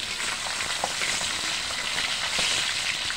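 Food fries in a pan with a steady, close sizzle and scattered crackling pops that continue unbroken through the whole moment, with no voices over it.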